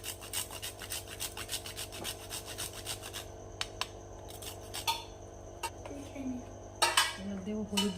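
Nutmeg grated by hand over a bowl of yogurt for a marinade, a soft dry rasping and scraping that repeats through most of the clip, quiet and close, with a few small clinks of utensils.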